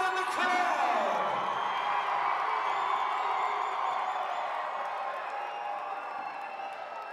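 Spectators at a Utah 5A state tournament girls high school basketball game between Fremont and American Fork cheer and whoop in a large gym, a loud, sustained wash of crowd noise with scattered shrill whistles that slowly tapers off.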